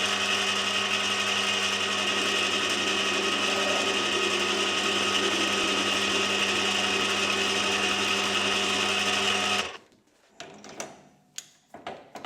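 A HAFCO AL320G metal lathe faces the end of a 20mm mild steel round bar with a loud, steady motor whine and cutting hum, then stops abruptly, leaving faint clicks and handling noises.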